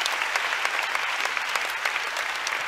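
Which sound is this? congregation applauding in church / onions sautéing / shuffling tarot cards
congregation applauding in church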